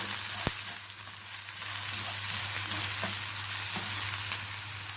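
Potatoes and onions fry in a pan with salt and red chili: a loud, continuous sizzle with a sharp knock near the start and soft stirring scrapes, over a low steady hum.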